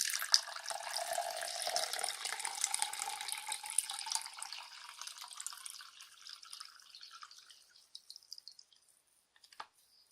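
A drink poured into a plastic Sonic cup, a steady watery trickle that thins out and ends in a few faint drips, quiet and close.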